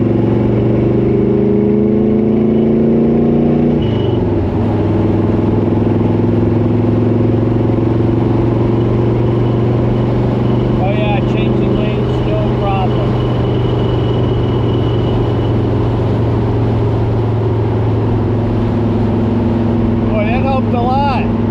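A car engine drones loudly and steadily from inside the cabin while driving, the pitch dipping at a gear change from third to fourth, with a person talking over it.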